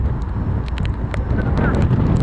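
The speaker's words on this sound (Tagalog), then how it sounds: "sobrang lakas ng hangin" Typhoon wind at the Port of Lucena buffets the microphone with a loud, continuous low rumble and roar, broken by faint clicks and bumps.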